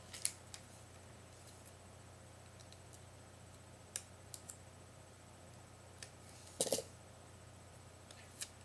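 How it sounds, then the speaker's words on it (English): Scissors snip off excess clear tape on the back of a playing card, heard as a few faint, sparse clicks and short snips in a very quiet room, with one slightly fuller cut near the end. "If you have any extra tape, just cut it off."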